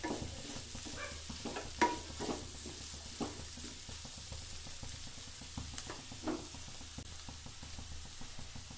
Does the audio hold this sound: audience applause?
no